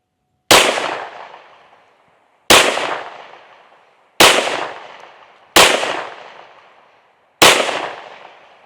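Five sharp pistol shots from a Ruger RXM firing defensive ammunition crack out at roughly one-and-a-half-second intervals, each loud, close and followed by a short decaying echo.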